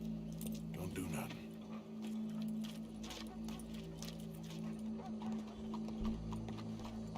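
Horse hooves clip-clopping at a steady pace in Red Dead Redemption 2, a quiet rhythmic clatter under a steady background hum and game ambience.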